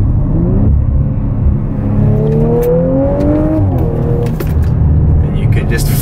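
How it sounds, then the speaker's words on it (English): A 2017 Audi RS5 in dynamic drive mode rumbles with its exhaust open, a deep, steady engine drone that rises briefly in pitch as it revs, with a person talking over it. "as soon as I switch it across, you can immediately hear the exhaust pipes opening up and the racer inside coming out."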